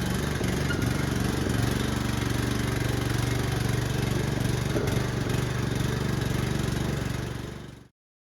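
A Turfco T3200 machine is slowly driven off its base under hand controls, its engine giving a steady, loud mid-pitched drone with a light rattle throughout before cutting off abruptly at the end.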